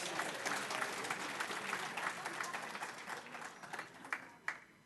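Audience applause at a teacher centre managers' workshop rises as a fairly quiet, dense patter of clapping that gradually thins into a few scattered, isolated claps near the end.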